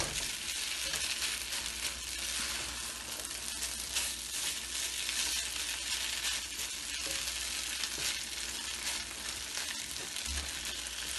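Moong dal halwa sizzles and fries in a pan over high heat while being stirred continuously, a steady close hiss with scraping texture and no talking.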